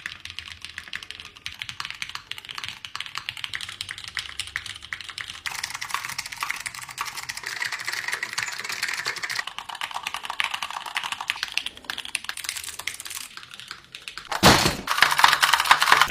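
Rapid typing on computer keyboards of varied, increasingly unusual designs, a steady close clatter of keystrokes that shifts in tone partway through and grows louder and brighter near the end.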